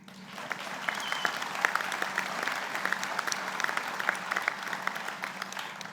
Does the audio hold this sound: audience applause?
yes